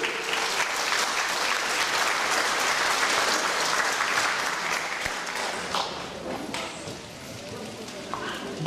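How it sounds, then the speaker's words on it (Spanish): Strong applause from the audience at a local livestock association event, a steady wash of clapping that fades slightly toward the end, with faint voices mixed in. "pido fuertes aplausos para ellos"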